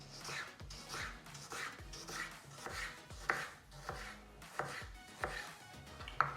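A knife cuts through a thick-skinned fruit on a board in repeated sharp chops with soft thuds, about two per second, close and fairly quiet, with no voices.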